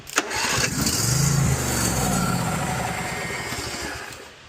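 A riding mower's small engine, with a carburetor needing cleaning, cranks briefly on starting fluid, catches, and settles into a steady, loud running rumble.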